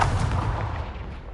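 A Confringo blast spell cast in a Harry Potter video game during Merlin trials, a single booming burst with a heavy low rumble that rolls on steadily for over a second, loud and close with no voices.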